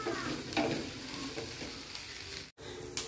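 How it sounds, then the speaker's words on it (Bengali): Dried shrimp sizzling in a hot pan, a dense, steady frying crackle heard up close for a few seconds, with a brief dropout near the end and no voices. "এবার এটাকে ভাজা ভাজা হওয়ার পর্যন্ত অপেক্ষা করব।"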